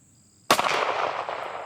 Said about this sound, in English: Again, we'll shoot one more.